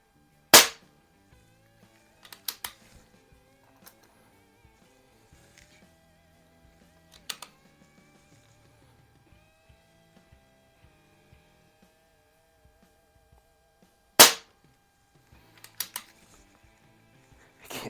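A Crosman 1701P air pistol fires Meisterkugeln wadcutter pellets in a few sharp, close cracks spread across a quiet stretch, with faint clicks and handling noises between shots.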